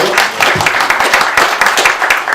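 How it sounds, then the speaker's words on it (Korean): At a CEO coaching forum, an audience gives a loud, close round of hand clapping after a speaker is introduced, with individual claps crisp and rapid in an uneven burst. "여러분 큰 박수 주십시오."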